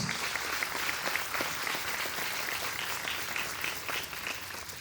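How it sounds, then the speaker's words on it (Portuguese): A church congregation claps for Jesus in a sustained round of applause, a dense, even patter of many hands filling the room without letup, with faint voices mixed into the crowd. "Vamos dar uma salva de palmas a Jesus."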